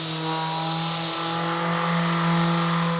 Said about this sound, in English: we're going to use a coarse sandpaper around a 60 grit with my palm sander